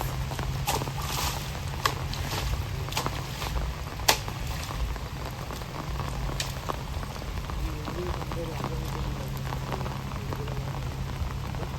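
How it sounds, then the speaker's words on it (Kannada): Heavy rain pouring steadily in a rural coastal Karnataka setting, a dense continuous patter with sharp drips and splashes close by, a voice occasionally speaking over it. "ಎಂತ ಮಳೆ ಗೈಸ್ ಜೋರು ಮಳೆ"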